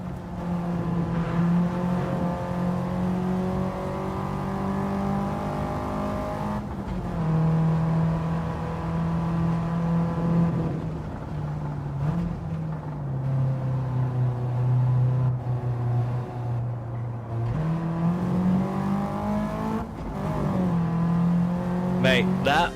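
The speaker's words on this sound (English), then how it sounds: "Mate, that was a mega fun car to drive." Race car engine in Gran Turismo 7 drones steadily with shifting pitch as the car accelerates and gears change, continuous and prominent, with people talking over it.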